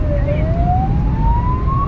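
A New Zealand police car siren wails continuously with a slowly rising tone over heavy road and engine rumble, loud and close.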